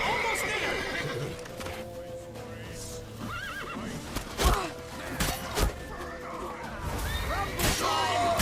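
A horse in The Witcher 3 gives a loud whinny during a chaotic in-game chase, with hoof clatter, crashes and shouting voices around it.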